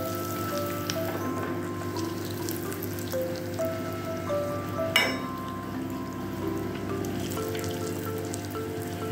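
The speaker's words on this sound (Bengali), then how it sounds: "গরম তেলের মধ্যে কচুরিটা ছেড়ে দিল।" Pea-stuffed kachori deep-frying in hot oil, a continuous crackling sizzle with a sharp splatter or clink partway through and faint background tones.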